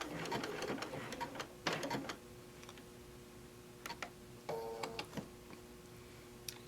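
Sewing machine stitching a fabric pincushion, sounding as faint, rapid mechanical clatter in short runs with pauses and soft clicks between them.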